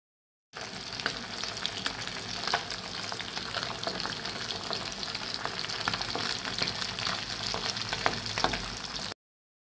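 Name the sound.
frying hilsa fish gills and belly pieces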